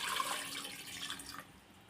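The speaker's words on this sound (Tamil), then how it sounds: "இப்போ தண்ணி இதில் ஊற்றிக்கலாம்" A short, fairly quiet splashing gush of water poured into a pot of mutton biryani, tapering off toward the end.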